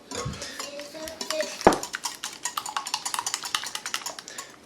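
A whisk or fork clatters rhythmically against a bowl as eggs are beaten for Japanese omelets, a quick steady tapping with one sharp clink partway through, close and clear with no talk.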